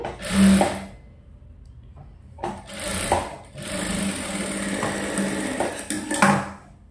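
Sewing machine stitching a princess cut blouse in a tailoring setup, running in several close, loud bursts separated by brief pauses, with short mechanical clatters between runs.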